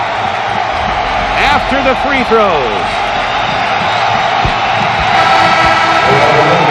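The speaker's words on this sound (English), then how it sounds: "And now, the crowd on their feet." An NBA arena crowd on their feet roars and cheers steadily, a loud dense wall of voices with whoops, while a commentator talks over it.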